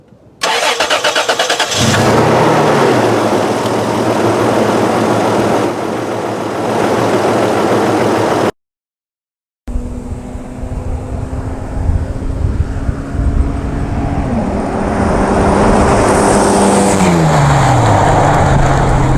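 A 1997 Toyota 4Runner SR5 cranks and fires up, then idles loudly; after a short break its engine revs and pulls through rising, shifting gears during a wide-open run down a road.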